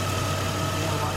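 A Chevrolet Impala 3.5L V6 idles steadily after a power steering pump replacement, a low, even engine hum running close and constant with no revving.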